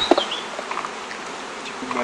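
Honeybees buzz around a hive frame during queen-rearing work, a close, busy swarm hum with wings whining past at changing pitches and a few soft knocks.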